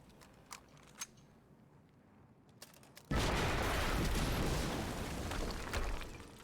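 A sudden loud, broadband explosion in the video game Quantum Break erupts midway and holds as a dense roaring rumble, after quieter moments with a few sharp clicks.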